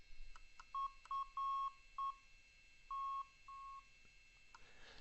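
A series of short electronic beeps at one pitch from a radio stack, some brief and some held longer, sounding in an irregular pattern against a quiet background with faint hum.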